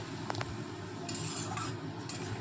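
A spoon stirs a moringa leaf mixture with a little water in a pan, giving soft intermittent scraping and clinking against the metal over a quiet hiss, close and faint.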